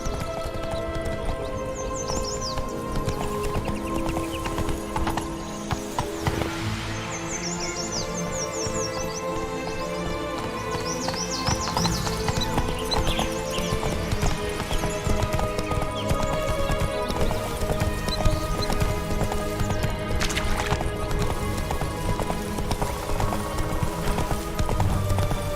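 Roach, a horse in The Witcher 3: Blood and Wine, gallops with steady rhythmic hoofbeats over continuous game music and ambience, with an occasional whinny and bird chirps.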